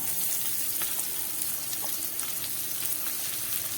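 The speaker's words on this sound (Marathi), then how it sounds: "आता आपण यामध्ये घालून घेऊया आपला बारीक चिरलेला कांदा" Finely chopped onion frying in a pan for Maggi noodles, a dense, steady crackling sizzle, fairly soft and uninterrupted, with no voices.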